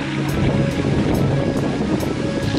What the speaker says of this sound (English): Isn't that a beautiful waterfall?